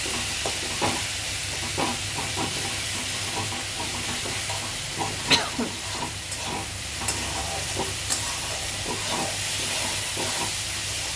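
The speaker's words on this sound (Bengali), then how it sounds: "শুকনো লঙ্কা গুঁড়ো জিরে গুঁড়ো ধনে গুঁড়ো একটু আস্ত জিরে আর ওই আদা রসুন বাটাটা দিয়েছে, দিয়ে কষে নিচ্ছে সব" Dry chilli, cumin and coriander powders with whole cumin and ginger-garlic paste fry in a pan, a steady close sizzle with scattered scraping stirs and small pops, no voices.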